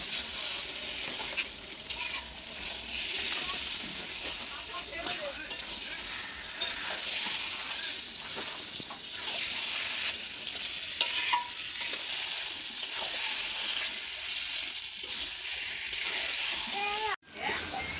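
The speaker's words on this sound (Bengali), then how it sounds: "মশলাটার সাথে ভালো করে মিক্স হচ্ছে" Taro stems stirred and fried with spices in a pan: a steady soft sizzle with repeated scraping stir strokes throughout, a voice talking faintly underneath, and a sharp clack near the end.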